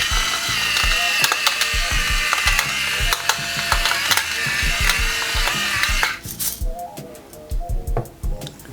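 Pepper mill grinding black pepper over a marinade for alligator stir fry, a dense fast ratcheting crunch that runs steadily for about six seconds, then slows into separate clicking turns close to the microphone.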